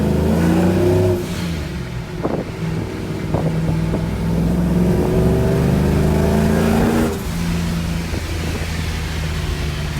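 A supercharged Chevrolet Silverado single-cab pickup with a stick shift revs hard toward its limiter, engine tone climbing and falling in repeated loud pulls with wind buffeting, no talk.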